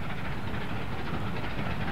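The Devon Belle train formation climbing the line between Blue Anchor and Washford on the West Somerset Railway, a steady loud rumble of the passing train and its rolling wheels.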